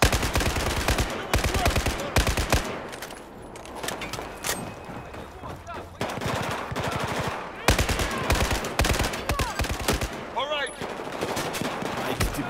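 Heavy automatic gunfire in Battlefield 4 during the Baku mission on PC, with loud close bursts of machine-gun fire and single shots that keep coming through the battle, while voices shout and talk.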